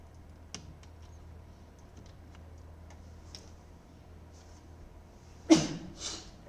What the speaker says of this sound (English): Excuse me, just suffering from sneeze.